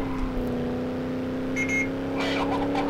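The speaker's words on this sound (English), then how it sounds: "That's my phone, by the way." A phone text notification chimes twice as brief bright tones over the steady engine hum of the BeamNG driving game.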